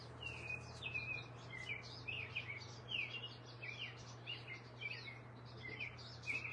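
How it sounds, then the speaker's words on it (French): Several small birds sing and chirp in quick, bright phrases throughout, fairly close and steady over a low constant hum, with no talk. "J'aime assez le chant des oiseaux."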